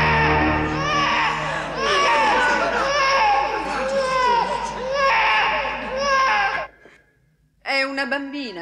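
A newborn baby girl in a fantasy film wails loudly in long, rising sobs that break off briefly before another cry starts again, with nothing else heard.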